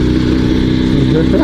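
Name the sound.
Dnepr sidecar motorcycle engine revving at full throttle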